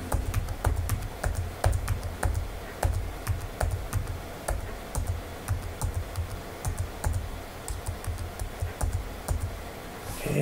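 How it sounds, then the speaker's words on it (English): Computer keyboard typing with arrow-key presses while adjusting note tunings in the WIDesigner instrument-design software, a quick irregular run of close, crisp clicks with no talk. "I'm just going to type one and use the arrow keys."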